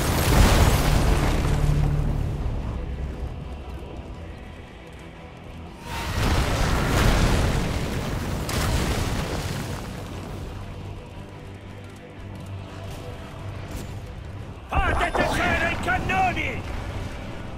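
A fortress is destroyed in Heroes of the Storm on the Blackheart's Bay map, with deep booming explosions that swell and fade, one at the start, another around six seconds and a sharp burst near the end, where a voice joins in.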